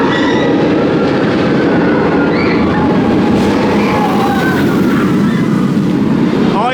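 A B&M hyper roller coaster train, Shambhala at PortAventura, runs along its track with a loud, continuous roaring rumble and rattle that stays steady throughout, with no voices.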